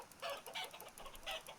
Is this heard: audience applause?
no